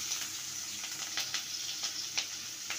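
Steady hiss of oil heating in a pan as chopped vegetables go in, with a continuous sizzle and a few brighter crackling bursts, close and fairly quiet with no one talking.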